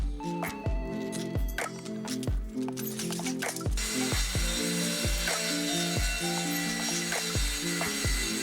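Cutting support triangles from plywood for a folding flat-pack sofa, with rhythmic rasping strokes and repeated low thumps, dense and steady, growing brighter and harsher partway through.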